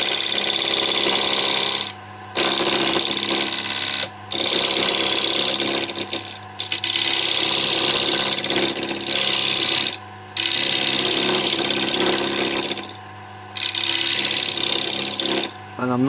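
Thin-walled square wooden bowls spinning on a lathe, with a steady rasping scrape of the cutting tool against wood, broken by short pauses, close and continuous over machine hum.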